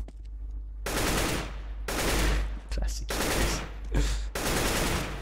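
Automatic gunfire from a video game 1v1 tournament match, heard as four long, loud, dense bursts separated by brief gaps, with a steady low hum underneath.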